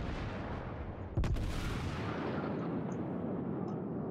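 A single heavy salvo from the battleship Amagi's main guns in World of Warships: one loud, sharp boom followed by a long, rolling rumble that fades slowly under steady ambient game noise.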